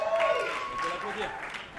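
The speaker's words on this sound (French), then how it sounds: "On peut l'applaudir." Audience applause at an award ceremony for a young-audience musical theatre trophy, a brief steady wash of clapping from a crowd with a voice speaking over it.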